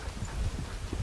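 Horse hooves walking on the ground in a straight line toward a post, a steady soft clip-clop of footfalls at close range, with low thudding steps and no talking.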